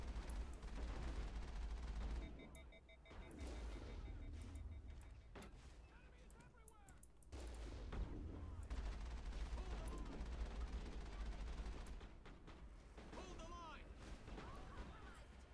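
Enemy gunfire in the video game Mass Effect, sharp shots and bursts crackling in bursts under steady low rumble and game noise, with someone talking over much of it.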